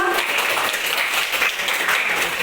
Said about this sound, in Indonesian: Ya, beri tepuk tangan untuk kita semua.